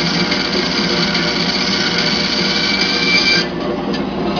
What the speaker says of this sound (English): we're cutting a piece of steel that's an inch and a quarter thick.